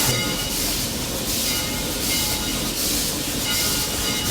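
Roaring Camp steam train pulling away: a steady, close rumble of wheels and cars with a continuous hiss spread over the whole moment, with no one talking.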